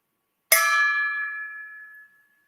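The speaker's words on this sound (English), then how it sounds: "A saucepan lid and a wooden spoon." A single bright metallic clang from a saucepan lid struck once with a wooden spoon, ringing out with a clear sustained tone that slowly fades over about a second and a half in otherwise silent surroundings.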